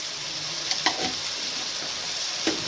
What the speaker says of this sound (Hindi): ये मैं हाथ से ज़ीरा डाल दी हूँ, सफ़ेद ज़ीरा है।